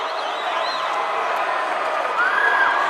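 A high school boys basketball playoff crowd roars and cheers in a gym, a dense sustained wash of voices with a few whistles or whoops rising near the end.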